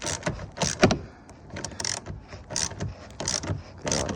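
A wrench turns to loosen bolts during a repair, making close, loud bursts of ratcheting clicks in uneven, repeated spurts with short pauses between them.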